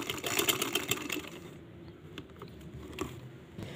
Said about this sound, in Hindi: फ़ोल्ड करने के बाद मैं इसकी सिंगल सिलाई लगा रही हूँ।